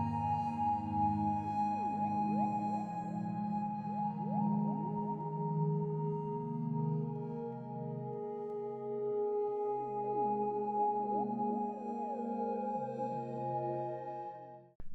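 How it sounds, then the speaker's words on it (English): Endless generative melodic synth soundscape built in Ableton Live with a Max for Live device, layered sustained tones and gliding, overlapping melodic lines drifting continuously at an even, moderate level before cutting off abruptly at the end. "to create an endless generating melodic soundscape that sounds like this."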